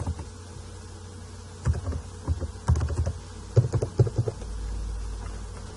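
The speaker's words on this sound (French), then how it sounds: "On saisit son mot de passe." Someone types a password on a computer keyboard, producing a close, irregular burst of key clicks over a low hum before it falls quiet.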